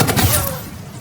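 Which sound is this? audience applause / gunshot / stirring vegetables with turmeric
gunshot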